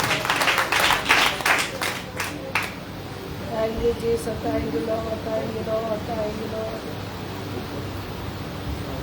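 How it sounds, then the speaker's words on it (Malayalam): A church congregation claps in welcome for a preacher, a dense burst of applause lasting a few seconds before fading into a softer sustained voice or singing. "കൈയടിച്ച് അഭിഷക്തനെ സ്വാഗതം ചെയ്യുക"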